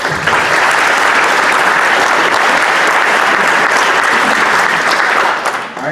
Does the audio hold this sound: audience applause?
yes